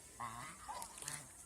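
Geese on a farm give two or three short, faint honks in quick succession, heard close by with no talk over them.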